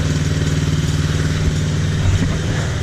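A Taotao Chinese ATV with a clogged carburetor idles steadily while warming up, its engine putting out a loud, close, even rumble with a slight clattering pulse throughout.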